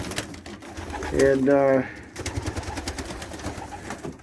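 Racing pigeons, Muelemans and Tiger Grizzlies, coo in a loft in a short rolling burst early on, fairly close, with someone talking over and after them.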